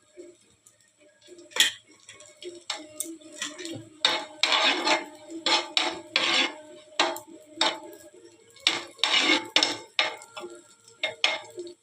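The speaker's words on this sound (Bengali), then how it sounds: "এখন কিশমিশটা ভেজে নেব।" Raisins frying in ghee in a pan at home, with irregular clinks and scrapes of a spoon stirring against metal and a soft sizzle underneath, close and moderately loud in bursts.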